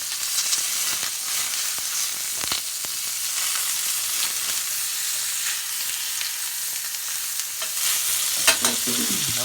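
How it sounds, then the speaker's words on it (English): A steak sears with a pat of butter in a hot pan, giving a loud, continuous frying sizzle and hiss, with faint scrapes and stirring clicks and a slightly louder crackle near the end; nobody speaks. "I'm gonna go ahead and drop a piece of butter in here"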